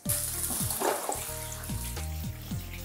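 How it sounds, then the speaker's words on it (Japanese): Bathtub water draining away after cleaning blackened grime off a bathroom floor, a steady close splashing and gurgling wash that runs continuously, with no talk. "一通り汚れが落ちたら排水していきます"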